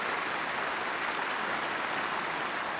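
Soviet-era parliament deputies applaud enthusiastically in a large hall on archival footage: dense, continuous clapping from a big crowd, loud and unbroken throughout.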